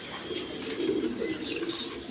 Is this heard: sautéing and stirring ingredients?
no